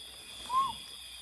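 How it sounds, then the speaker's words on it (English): An owl in an Ecuador cloudforest gives one short, soft hoot at a distance, alone against a steady hiss of insects and forest ambience. "we started to hear the sounds of a really cool owl"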